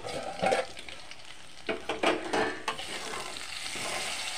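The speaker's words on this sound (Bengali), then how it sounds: "ভাজা ভাজা হয়ে গেছে, নামিয়ে নেব।" Potatoes frying in oil give a steady broadband sizzle, punctuated by several sharper bursts of stirring and spatter, with no voices over it.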